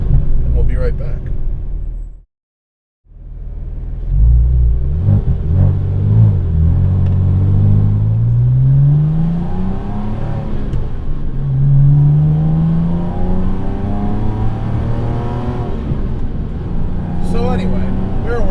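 A 4.2-litre naturally aspirated wide-body Porsche Cayman engine drones loudly from inside the cabin while driving, its pitch climbing and falling through several rev sweeps after a brief silent cut, with someone talking over it.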